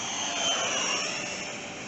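A Flex Innovations F-100D radio-controlled jet with a 90 mm electric ducted fan whooshes overhead in flight, a steady loud turbine-like whine that swells slightly and then eases as it passes.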